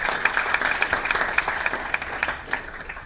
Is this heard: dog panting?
no